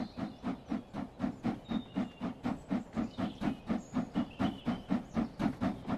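A simulated steam locomotive in Train Sim World 3 pulls away with rhythmic chuffing, regular exhaust beats under a faint steady hiss and occasional high tones, moderately quiet and without voices.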